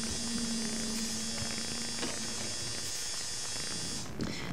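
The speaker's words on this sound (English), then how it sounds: "Don't mind that sound in the background. That was my washing machine." A washing machine runs in the background, a steady, droning buzz with a low hum that holds evenly for about four seconds before it shifts and briefly dips near the end.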